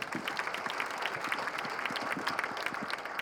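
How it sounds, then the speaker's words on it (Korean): A roomful of people gives brief, steady applause at a Incheon city government expanded staff meeting, dense clapping sustained evenly at a close-to-moderate distance with no speech on top. "박수는 이럴 때 한번 치는 거 아니겠습니까?"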